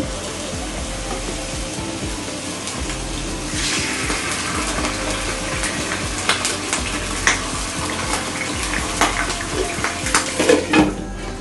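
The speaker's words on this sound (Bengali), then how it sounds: "তেলে চিকেনটা ফ্রাই করে নিচ্ছি।" Pieces of farm chicken, still wet and not drained, sizzle and crackle steadily in hot oil in a pan, with occasional stirring clatter. The sound is close and continuous, with no talking.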